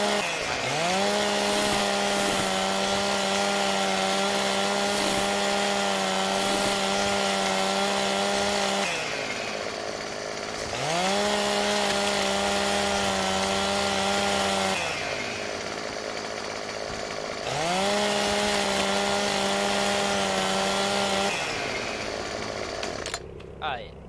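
Chainsaw cutting logs in the video game Farming Simulator 15: three long, steady revving cuts with a droning engine tone, brief dips between, loud and close.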